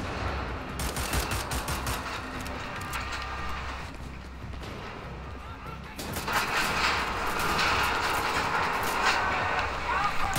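Gunfire in the video game Wolfenstein: The Old Blood: sustained rapid shooting and crashing blasts, growing louder in the second half, under a player's talking.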